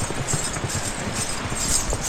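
Horses walking along the Shivkhori pilgrimage route in Jammu, their hooves giving a steady, moderately close clip-clop over a constant outdoor background, with no talking.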